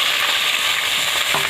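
Onion and capsicum fry in a pan with whole garam masala while being stirred, a loud dense sizzle with soft scraping, close and uninterrupted over a brief moment.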